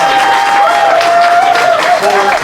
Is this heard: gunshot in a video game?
no